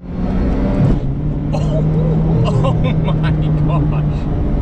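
A Zenvo hypercar's engine drones steadily from inside the cabin during a hot-day drive, a constant low rumble with a shifting tone, while people talk over it.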